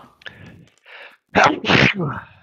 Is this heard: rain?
no